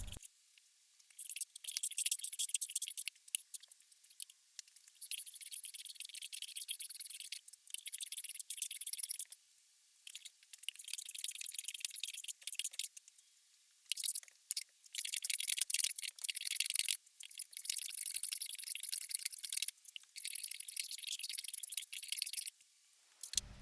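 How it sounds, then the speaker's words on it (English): A hand plane flattens the top of a wooden stump being prepared as an anvil base. Repeated faint, hissy shaving strokes come in bursts with short pauses between passes. "here I'm just going to use a hand plane to flatten that surface"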